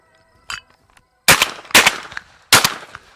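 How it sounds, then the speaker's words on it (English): Three loud, sharp shotgun blasts from a Mossberg fired at thrown clay targets, close and widely spaced, each with a short echoing tail, following a single fainter thump. "I shoot the first one from the hip, move up to the shoulder for the second one, flip the gun upside down over the head, and shoot the third one."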